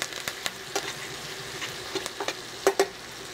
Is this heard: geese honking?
no